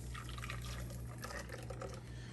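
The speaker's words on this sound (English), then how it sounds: "put a strainer, and I just pour it through." Egg custard mixture for an old-fashioned pie poured through a strainer into a bowl, a soft steady trickle and patter of liquid over a low hum, close and quiet with no talking.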